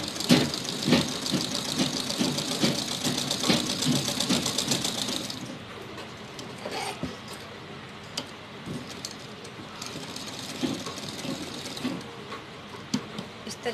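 A sewing machine stitches a strip of cotton cloth for a small doll dress, running with a fast, close mechanical rattle for about five seconds, then stopping. Quieter short bursts and clicks follow.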